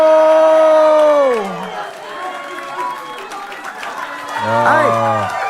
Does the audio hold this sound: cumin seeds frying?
no